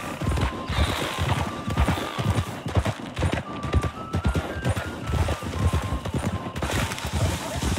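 A horse ridden along a street clops steadily in a quick, even rhythm, moderately near, under a continuous layer of background noise.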